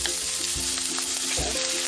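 Onions sauteing in hot oil in a pre-heated pot, a loud, close, continuous sizzle with brief stirring knocks, no voices.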